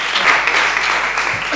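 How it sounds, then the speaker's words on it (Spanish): Audience applause at a storytelling marathon, dense steady clapping from many hands filling the room, loud and continuous for the short stretch with no voices over it. "Un aplauso."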